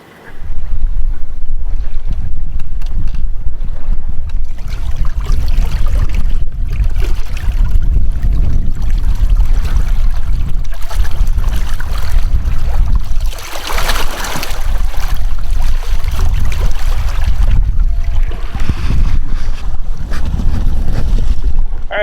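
Boat pushed into the wind by a quiet electric outboard kicker motor, a steady loud broadband rush of wind and water across the microphone throughout, with the motor buried in the noise.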